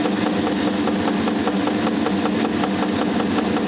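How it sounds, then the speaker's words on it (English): Vintage washing machine running with its motor and pump going, a steady, dense mechanical whir with a faint regular pulsing throb, loud and continuous with no voices. "There we go, there's the motor. There's a pump."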